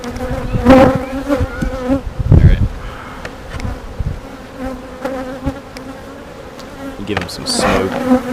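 Honeybees buzz close and continuously around an open hive during a routine inspection, individual bees swelling louder as they pass near, with faint handling sounds underneath.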